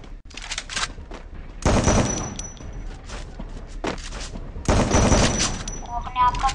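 Rapid gunfire from a mobile shooter video game, including an ACAT gun, comes in loud automatic bursts and scattered single shots, with short pauses between volleys.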